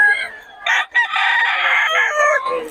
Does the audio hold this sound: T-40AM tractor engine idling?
no